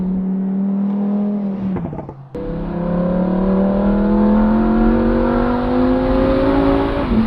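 A Lamborghini Huracan EVO RWD engine revs hard and close. Its pitch climbs steadily through the gears, with a brief dip and crackle at a shift before it pulls up again, loud and sustained.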